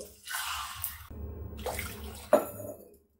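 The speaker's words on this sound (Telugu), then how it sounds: "ఒక 2 కప్స్ వరకు వాటర్ వేసుకోండి." Water pours and splashes into a pot in a few short bursts, close by, with no talking.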